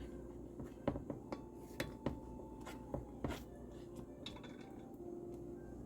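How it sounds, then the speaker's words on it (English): A spoon stirring thick, creamy sauce in a pot for a ravioli bake, making soft, irregular scraping and clinking strokes that are close and fairly quiet, with no talking. "So you just keep stirring it, just like that."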